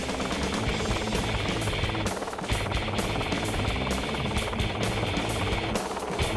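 A helicopter in a mountain setting, a steady loud roar of rotor and engine with fast thudding blade chop holding constant throughout, close and continuous with no voices.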